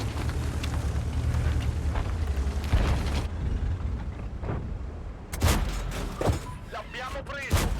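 Heavy tank cannon shots in a World of Tanks–style battle as the Progetto 46 fights enemy heavies, several loud booming blasts with rumbling low-end and mechanical clatter, mixed under dense game noise.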